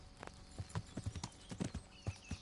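A horse's hooves clip-clop in Kingdom Come: Deliverance, a brisk, steady run of hoofbeats over constant background ambience.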